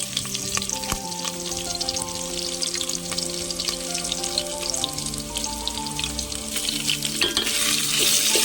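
Ginger garlic paste frying in hot oil for chicken biryani, a steady close sizzle with stirring clinks that grows louder toward the end.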